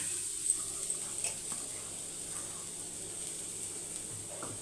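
Grated coconut dry-roasting in a wok until golden brown, giving a faint steady sizzle with a few soft scrapes and stirs, alone and fairly quiet throughout.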